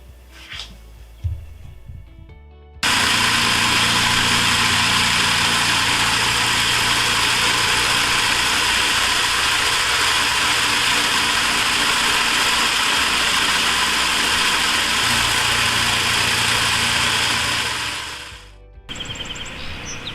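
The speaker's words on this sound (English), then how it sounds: "then in the tumbler it will go" A tumbler machine tumbling a part to a tumbled finish gives a loud, steady mechanical roar with a constant rumbling hum, starting abruptly, running unbroken for about fifteen seconds, then winding down and stopping.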